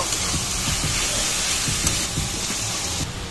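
Shredded cabbage frying in a pan with melted tomato, a steady close hiss and sizzle running throughout with faint scraping ticks, no talking.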